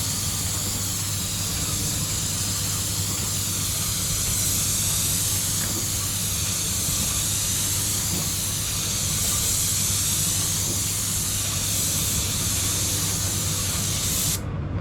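Aerosol spray paint hissing steadily onto the bottom of a plastic drawer, a close, continuous hiss with no talk, cutting off at the very end.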